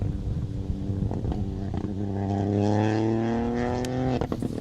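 A Rally 3 car with a little 1-liter 3-cylinder engine runs a rally stage at MaryHill, Oregon, its engine note climbing steadily through a gear before a brief drop, loud and close.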